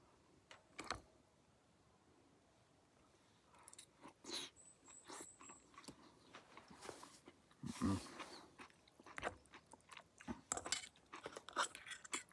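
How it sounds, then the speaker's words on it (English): Someone bites into a fresh tomato with buttered bread at an overnight solo forest camp, then chews with soft, moist crunches close up, quiet and irregular against faint outdoor stillness. "So let's try one of these tomatoes."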